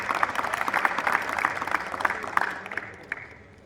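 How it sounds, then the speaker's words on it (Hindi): Audience clapping at a poetry recitation event, a dense burst of applause that holds steady for a few seconds and then thins out and fades as the clapping dies away. "तो मैं सबसे पहले चिन्मय के लिए तालियां चाहूँगा।"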